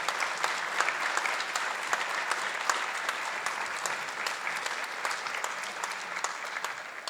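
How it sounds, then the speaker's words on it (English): Audience at a fire and rescue service promotional ceremony and public safety awards giving a round of applause for newly promoted lieutenants, sustained dense clapping from a sizable crowd, steady and fairly loud with no voices over it. "Let's give your lieutenants a congratulatory round of applause."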